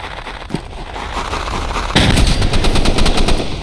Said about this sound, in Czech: Petardy.